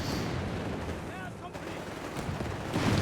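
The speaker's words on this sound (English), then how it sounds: "Got the mortar firing shot here." Mortar fire in Company of Heroes 3, from a German Granatenwerfer, comes as a dull thud amid steady battlefield gunfire and explosions. A commentator talks over the combat throughout.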